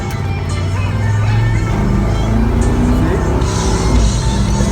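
A 1976 Chevy Suburban square body engine running loud and close, a continuous low rumble that swells slightly as it revs, with no speech.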